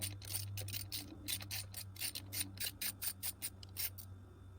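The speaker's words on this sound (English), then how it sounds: "Next step is to remove these two nuts off of the plastic trim piece." A ratchet clicks rapidly in short repeated strokes as nuts are backed off a plastic trim piece on a 2021 Ford Bronco, faint and close, over a low steady hum.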